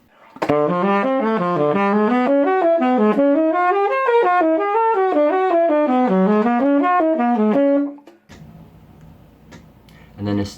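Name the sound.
guitar playing linked pentatonic scales moving chromatically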